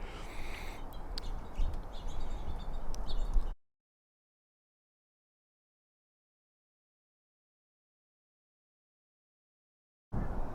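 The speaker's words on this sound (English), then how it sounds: "this bird feeder, which has plenty of birds on it right now" Birds at a backyard feeder in winter give a few faint, scattered chirps over steady outdoor background noise for about three seconds, then the sound cuts to silence before the ambience briefly returns.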